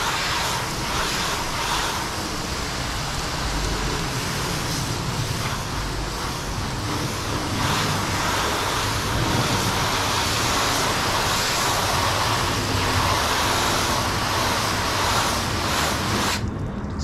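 A pressure-washer spray blasts an initial rinse over a ceramic-coated car, a loud, steady broadband hiss of water that persists for the whole stretch, with no speech.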